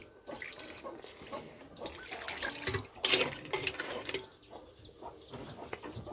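Water splashes and trickles into a pot of crab masala made with creek crabs, cooking on a wood-fired clay stove in rural Konkan, heard close and moderately loud with chickens clucking faintly in the background.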